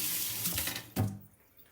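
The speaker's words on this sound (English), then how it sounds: "So let me wash them off because they're sticky." Tap water runs into a kitchen sink as sticky hands are rinsed, a close steady splashing stream that swells in a brief loud gush and then tapers off, with no talking.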